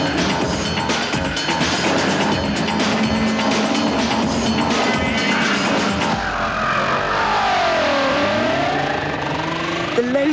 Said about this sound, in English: You can steer the car on the throttle and get a really good momentum going to sweep you along.